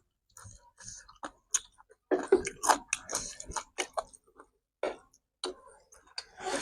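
Crunchy fried chicken tendons chewed up close, a string of crisp, irregular bites and crunches with short pauses between bursts, fairly loud and without clear talk.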